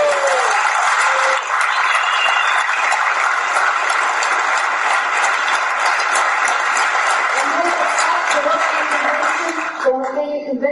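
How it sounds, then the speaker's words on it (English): Sustained audience applause fills a convention hall in Denmark: loud, dense and even clapping from a large crowd that carries on for about ten seconds, then fades as a voice starts. "I really want to give you a big round of applause"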